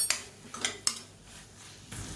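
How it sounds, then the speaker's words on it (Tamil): Sesame powder stirred into tomato and bitter gourd in a pan, with three sharp metallic scrapes of a spoon against the pan followed by a softer shuffle, close and fairly quiet. "சேர்த்துட்டு நல்லா பரட்டி விட்டுக்கலாம்"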